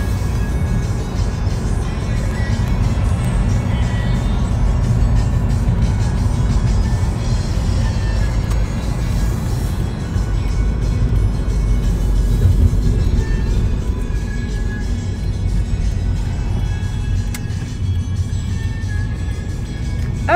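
A car drives along a road in Florida, a steady low engine and road rumble heard from inside the cabin for the whole stretch, with no talking.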